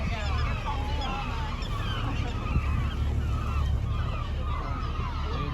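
A large colony of black-legged kittiwake gulls nesting on island ledges, thousands of birds calling at once in a dense, continuous chorus of overlapping cries at steady loudness, with no clear voice over it.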